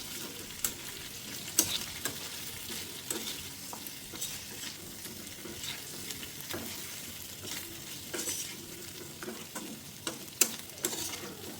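Chicken fry stirred in a kadai sizzles steadily, with irregular scraping and tapping from the spoon against the pan and no talking.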